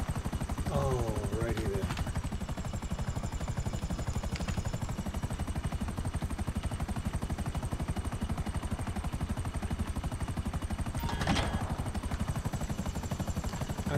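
Helicopter in GTA5 Online, a constant rotor thrum with pulsing blade chop running steadily throughout, while someone speaks briefly early on.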